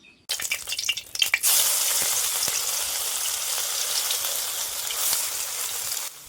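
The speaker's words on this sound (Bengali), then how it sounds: "এখন মটরশুঁটির বড়াগুলো করে নিচ্ছি আর দেখো তেলের মধ্যে দেওয়া মাত্র এমন ছেড়ে ছেড়ে যাচ্ছে" Pea fritters drop into hot oil and set off a loud, steady, close sizzle that runs unbroken for several seconds. A few clinks and rustles come at the start, then the frying hiss continues evenly alone.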